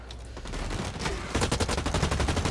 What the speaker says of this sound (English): You don't want to let your gun get out of control by shooting too many bursts at once.